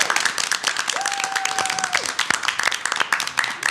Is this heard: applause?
yes